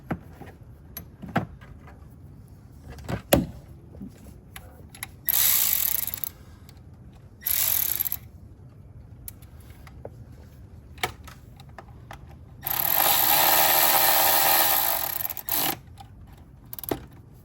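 Bursts of a hand ratchet clicking as a bolt is snugged back down on a Ford V6 EcoBoost engine during spark plug work, short loud runs separated by quiet pauses and small tool knocks.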